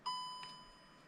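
A DJI Osmo 3 phone gimbal powering on gives a short, clean electronic startup chime. It has a bright tonal note and a second quick tone after it, heard alone in a quiet room.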